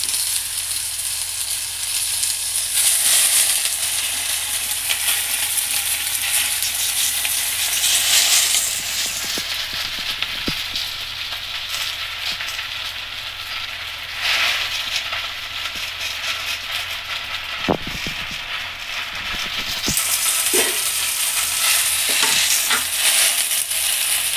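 Gongura leaves sizzle in a pan while being stirred, a continuous frying hiss broken by scraping and a few metallic clinks of the spatula, with no voices.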